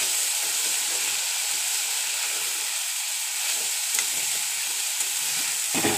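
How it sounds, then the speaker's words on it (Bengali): Potatoes fry in oil in a covered pan with a dense, steady sizzle and hiss that stays loud and even throughout, ending with a slight clatter near the end. "এই দেখো আমার আলু ভাজা হয়ে গেছে গো"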